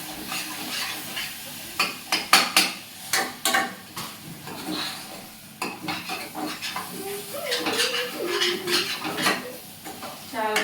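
Spoon stirring masala frying in a pan for vegetable biryani and potato kurma, with repeated close metallic scrapes and clinks against the pan over a soft sizzle, no talking.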